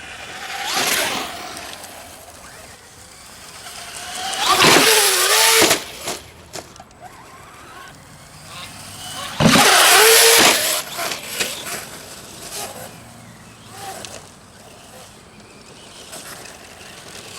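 Traxxas Slash 4x4 RC truck driving while sounding faulty, with two loud whining motor bursts rising and falling in pitch, separated by scattered clicks, knocks and rattles.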